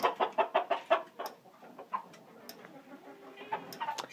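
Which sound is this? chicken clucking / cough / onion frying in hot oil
chicken clucking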